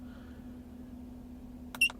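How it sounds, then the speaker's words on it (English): A Romondes RD2000 OBD2 code reader gives one short electronic beep at the press of a button, heard near the end over a quiet background hum. "There's a beep sound if it's annoying, but I like it to be on, so I know that I actually press the"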